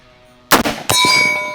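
Rifle bullets from a UAR-15 ringing off a small metal target at a range, two sharp clangs a moment apart, the second leaving a long, bright, sustained metallic ring.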